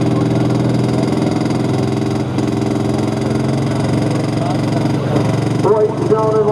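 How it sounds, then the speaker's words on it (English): A John Deere 7710 pro stock pulling tractor at a 10,000 lb class pull in Selinsgrove roars with a loud, steady harmonic engine drone, rising and crackling near the end. "John Deere 7710."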